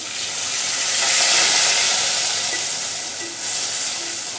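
Water poured into a pan of frying onions with ginger and garlic paste, raising a loud continuous steamy hiss that swells and then eases, with no voices.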